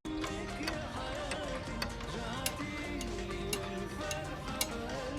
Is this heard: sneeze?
no